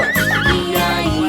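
A horse gives a loud, close whinny that rises and wavers for just over a second, with no other sound around it.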